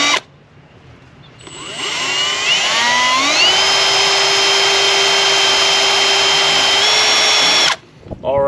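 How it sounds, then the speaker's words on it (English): A power drill bores holes into a fiberglass front Euro bumper on a 1991–96 Chevrolet Caprice/Impala, running steadily loud and close for several seconds, its whine rising in pitch as it spins up, then cutting off abruptly. "Right where I feel the pressure at is where I'm taking the drill bit to start a mark."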